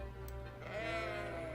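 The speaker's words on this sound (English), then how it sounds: "We do have animals, and now you can see we have the sheep." Sheep in the city-building game Cities: Skylines give a single short, quavering bleat, close and clear over a faint steady background hum.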